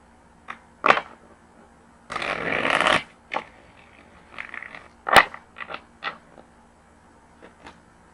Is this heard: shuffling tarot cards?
yes